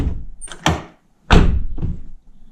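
A Nissan R35 GT-R car door is shut firmly several times after its door card is refitted, checking for a rattle; each close lands as a loud, solid thunk with a brief echo, the last ones a little softer.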